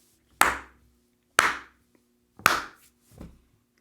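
Four separate hand claps ring out at slow, uneven intervals, each sharp and close with a short decay, the last one softer, against an otherwise quiet background.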